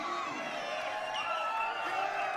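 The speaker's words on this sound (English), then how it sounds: "crowd going crazy here in the Wolf Den" Crowd at a billiard trick shot event, the USA vs Europe trick shot world cup final in the Wolf Den, cheering and whooping steadily throughout at moderate, fairly distant level, with no clear talk over it.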